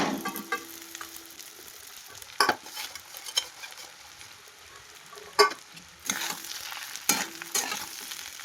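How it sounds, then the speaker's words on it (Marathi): Sabudana is stirred in a hot pan, with a faint sizzle broken by scraping spoon strokes and occasional louder clanks at irregular intervals, and no talking. "सर्व व्यवस्थित मिक्स करून घ्यायचं आहे"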